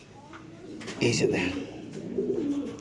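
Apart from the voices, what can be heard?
pigeons cooing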